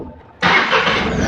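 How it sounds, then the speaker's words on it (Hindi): A Tata Ace Gold BS6 small truck's engine fires up after a short quiet moment, jumping straight into a loud, steady idle that runs close to the end with no voices. "और अब गाड़ी चालू हो जाएंगी अपनी।"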